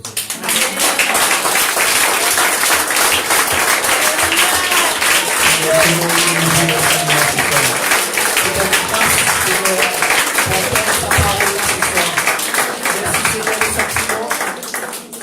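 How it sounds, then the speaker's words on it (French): A church congregation claps along steadily throughout a French-language worship service, with loud, dense clapping running under voices and singing. "Applaudis le Seigneur."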